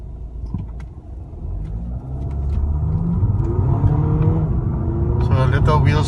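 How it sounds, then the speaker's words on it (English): A 2016 Volkswagen CC 2.0 TDI diesel pulls away at full throttle in sport mode, its engine note rising steadily in pitch as it gathers speed, heard loudly from inside the cabin, with a brief high squeal near the end. "So I'll floor it 0 to 100"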